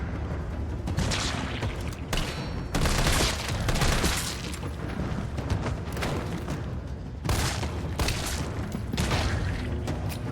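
Repeated bursts of gunfire in the Resident Evil 3 video game, set in the Raccoon City hospital, with steady volleys and rumbling booms over a constant muffled game background and no talk.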